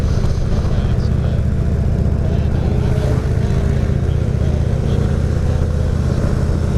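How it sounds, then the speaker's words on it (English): A 2016 Indian Roadmaster motorcycle engine held high against its rev limiter between first and second gear, a loud, steady droning roar with a pulsing stutter throughout. "So I'm getting a lot of bouncing off the rev limiter from first to second because I'm not used to where that clutch is."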